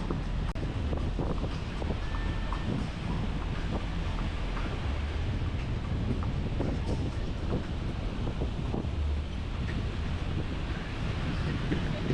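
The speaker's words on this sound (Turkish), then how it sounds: "Rüzgar bayağı sert esiyor ya." Strong wind roars steadily across the microphone at Tulum Beach, Mexico, a constant loud buffeting rumble with faint water-like wash beneath.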